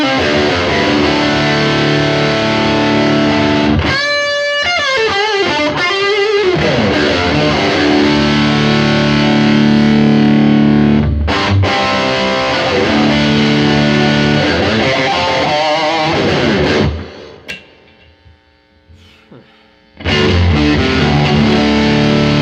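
Electric guitar through a Line 6 Helix Fender Tweed Bassman amp model plays loud, gritty chords and string bends with a stringy, biting edge, pausing into near silence briefly before the chords resume.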